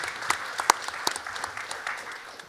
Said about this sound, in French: on peut l'applaudir, effectivement